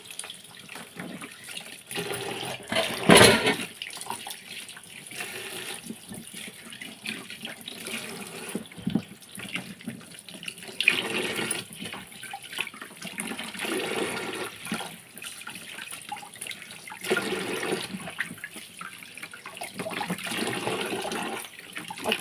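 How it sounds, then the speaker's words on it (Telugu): Ridge gourds being washed under a running tap, a steady splash of water into a sink that carries on for the whole stretch, close and moderately loud, with a brief louder gush near the start and no talking. "మొత్తం కడిగేస్తున్నాము చూడండి నీట్గా ఇలా కడుక్కున్నాము"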